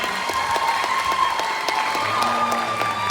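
A studio audience at a live Thai singing show applauds steadily, dense even clapping filling the room with faint cheering mixed in.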